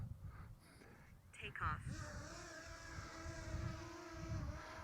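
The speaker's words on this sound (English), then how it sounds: "Now we're going to do an automatic takeoff this time by holding down the C1 button and at the same time pulling down on the throttle" Propellers of a Potensic Atom 2 drone spin up for automatic takeoff, a faint rising whine that settles into a steady high hum under a low rumbling background.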